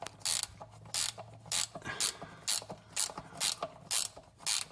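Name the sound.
ratcheting wrench undoing oil pan bolts on 1996 Buick 3800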